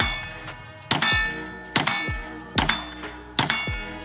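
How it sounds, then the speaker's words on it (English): Smith & Wesson M&P 2.0 Compact pistol fired five times at a steady, deliberate pace, each shot a loud, sharp crack with a ringing decay, no talking. "Notice how the gun doesn't really go like super up in the air as I'm shooting"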